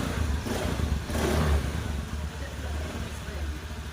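A motorcycle engine runs after a repair of a chipped, overheated piston, a fairly quiet steady hum with a slight swell, while someone talks over it.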